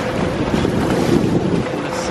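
A sailboat beats straight into a 22-knot headwind among the 1000 Islands, its hull pounding and splashing through the waves. Loud, steady wind rush and water noise fill the whole stretch, with no voices.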